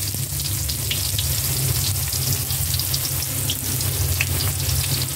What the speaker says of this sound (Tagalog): pwede na natin igisa yung bawang sibuyas